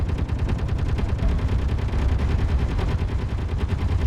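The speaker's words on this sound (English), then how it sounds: "When we put the turrets in, we put turrets around both sides, so they're coming from this direction now." Automated turrets on a Mars base in Space Engineers fire continuously in a rapid, dense stream of shots, loud and close for the whole stretch, with no voices.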